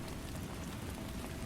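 Steady rain falls in a dense, even hiss with no pauses, soft and continuous, heard on its own with no voices.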